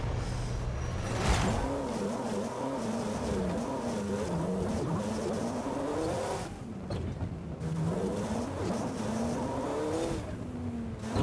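A car engine in Forza Horizon 5 revs and accelerates through a long gear, its loud, rising drone pulling on steadily with brief dips between gears, no talk over it.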